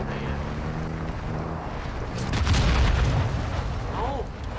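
A rocket blast in Call of Duty Modern Warfare II DMZ erupts midway as a heavy, low boom over steady game background noise, with a voice briefly heard near the end.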